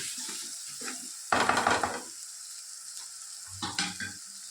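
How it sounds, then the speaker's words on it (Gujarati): Tomatoes with chilli powder, coriander and cumin sizzle steadily in a hot pan, with a couple of louder bursts of stirring and scraping. No one speaks. "ટામેટાં થોડા સોફ્ટ થાય ત્યાં સુધી એને શેકાવા દઈએ"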